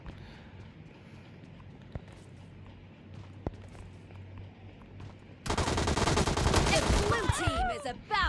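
Gunfire in the BGMI mobile battle royale game, a few single shots over quiet footsteps followed by a dense, loud burst of rapid automatic fire.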